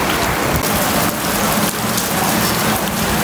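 Heavy rain pours down steadily and loudly, a dense continuous wash of drops hitting surfaces nearby with no voices over it.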